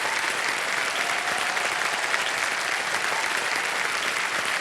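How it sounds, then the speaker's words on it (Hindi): A studio audience at a quiz show applauds steadily, a dense, even roar of many hands clapping that holds at the same level throughout with no voices over it. "तालियां बजती रहे इनके लिए।"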